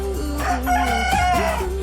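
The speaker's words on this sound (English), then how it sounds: "the roosters are crowing" A rooster crows close by, one drawn-out, wavering cock-a-doodle-doo over a low steady hum.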